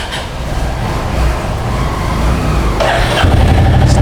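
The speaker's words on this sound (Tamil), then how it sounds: "இப்போது வண்டியை ஆன் பண்ணிட்டேன்." A Royal Enfield Classic motorcycle engine starts up and settles into a steady low idle, with a louder burst near the end as it catches.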